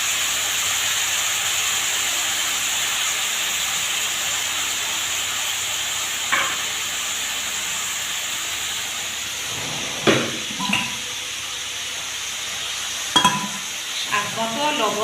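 Leafy greens sizzling in a hot frying pan, a steady close hiss of frying that continues throughout, with a few scraping stirs of a utensil near the end.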